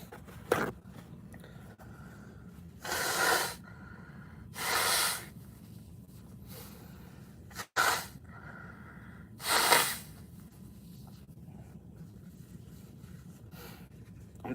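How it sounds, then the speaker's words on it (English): Several forceful bursts of air through the nose as someone blows their nose, coming in separate gusts spaced a few seconds apart in a quiet room. "I gotta blow my nose"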